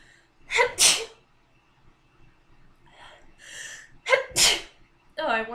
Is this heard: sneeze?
yes